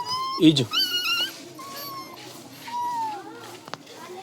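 An injured dog with a badly hurt leg whimpers and yips in short high cries near the start, then softer whines, while a person talks over much of it.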